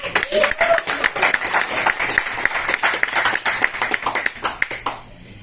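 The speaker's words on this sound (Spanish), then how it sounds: "Se merece un aplauso" A church congregation breaks into loud, dense applause that carries on steadily before thinning out and stopping near the end.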